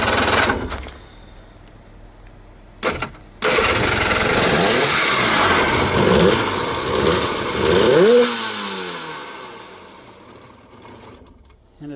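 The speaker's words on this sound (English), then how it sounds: "But you really have to give it throttle." A 1998 Sea-Doo GTX jet ski with an RFI engine, idling poorly, is throttled up into loud, wavering revs that climb and fall several times before it drops back to a rough, unsteady idle.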